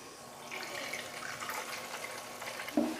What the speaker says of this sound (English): add like a cup of water into this blender cup to get any residual